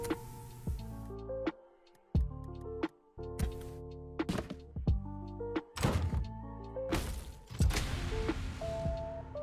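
Loot crate opening in a video game's beta: a string of sharp thunks and clicks, each followed by bright chiming, ringing tones and shimmering flourishes, loud and close with no speech.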